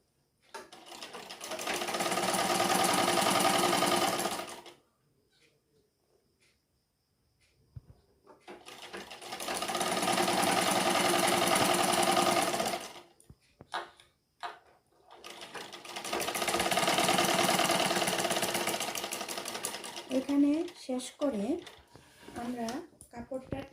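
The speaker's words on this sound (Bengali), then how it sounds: "আমরা একটা চাপ সিলি দিয়ে দেব যাতে সেলাইটা খুলে না যায়" Sewing machine stitching cloth for a petticoat in three long, even runs of rapid mechanical whirring and clatter, separated by quiet pauses; someone speaks near the end.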